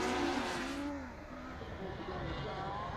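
Steve Harris's rallycross car in the RX150 final at Pembrey, its engine revving and whining at a distance as it pushes onto the tarmac, a steady mid-level drone with rising and falling pitch under faint commentary.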